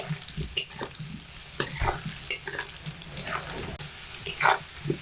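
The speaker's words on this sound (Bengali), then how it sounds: "আলুগুলো আমি তেলের মধ্যে দিয়ে চার থেকে পাঁচ মিনিট সময় পর্যন্ত ভেজে নিচ্ছি" Potatoes fry in a pan of hot oil with quiet, intermittent sizzling and scraping stir strokes against the pan, the bursts coming irregularly over a low background.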